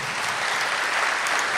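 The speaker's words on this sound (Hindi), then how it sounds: "पुरजोर तालियां हो जाए।" Dense, steady applause from a mushaira audience at a poetry gathering in Ichalkaranji, sustained and fairly loud throughout with no speech.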